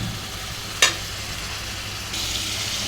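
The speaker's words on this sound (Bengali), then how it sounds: "চিকেনটাকে ভালো করে কষিয়ে নিচ্ছি" Chicken pieces being sautéed in a pan before green banana goes in, a steady soft sizzle with one sharp scrape near the start and the frying growing slightly brighter toward the end.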